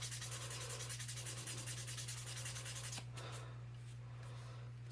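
Putty on a model being sanded by hand, a steady rhythmic rubbing stroke repeating close up for about three seconds, then stopping and leaving a quiet hum.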